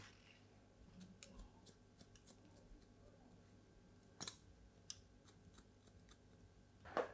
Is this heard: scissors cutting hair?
yes